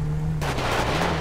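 A sudden burst of rapid gunfire in GTA 5 roleplay cracks out over a steady low hum, with several shots fired in quick succession.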